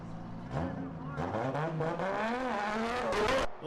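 Race car launching off the start line into a corner at a Battle Royale burnout final, a loud sustained engine roar with rising revs and tyre noise, while a commentator's voice is partly mixed in.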